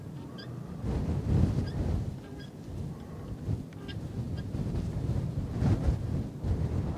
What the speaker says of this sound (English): So you can imagine with the wind blowing